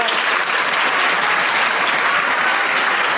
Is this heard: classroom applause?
yes